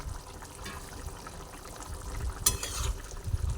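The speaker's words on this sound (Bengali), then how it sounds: "এক এক করে আমি এর মধ্যে মাছগুলোকেও দিয়ে দিচ্ছি" Pieces of rui fish dropped one by one into a simmering light Bengali fish jhol, giving soft bubbling and a sharp splash midway over a steady low simmer.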